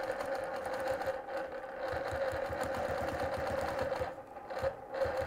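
A quilting sewing machine runs steadily, stitching a Baptist Fan pattern along slotted rulers with a fast, even needle rhythm and a constant motor hum, close and continuous.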